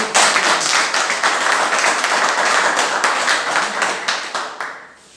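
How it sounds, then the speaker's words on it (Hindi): Loud, sustained applause from a crowd, dense steady clapping for about five seconds before tapering off at the end. "तो बजाओ जोरदार तालियां।"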